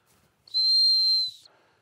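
A close, steady blast of a sit whistle used in dog training holds one shrill pitch for roughly a second, framed by faint handling noise and no speech.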